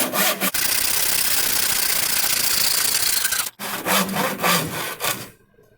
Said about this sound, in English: let the weight of the saw do most of the work